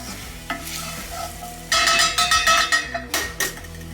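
A utensil scrapes and knocks against a pan as flour is stirred into sizzling butter for a roux, loud rhythmic strokes over a continuous frying hiss.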